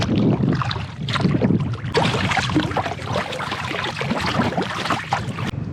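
A double-bladed paddle dips rhythmically as a kayak moves through a mangrove river in the Everglades, with steady splashes and water swirl under gusty wind noise on the microphone.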